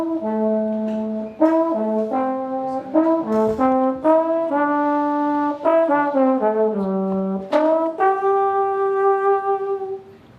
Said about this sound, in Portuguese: Esse é o som do trombone tenor